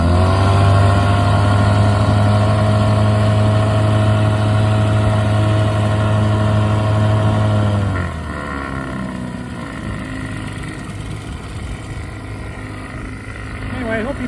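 Vintage 17hp Mercury triple outboard motor running loud and close with a steady deep drone, then the pitch shifts abruptly partway through and it continues as a rougher, busier engine roar.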